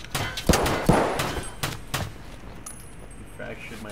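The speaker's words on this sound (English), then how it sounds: "Suppressing fire." Bursts of suppressing gunfire in Escape from Tarkov, with several sharp shots clustered in the first two seconds and fainter scattered reports afterward, mixed with voices talking.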